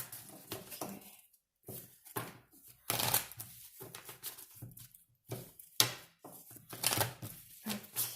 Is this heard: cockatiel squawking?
no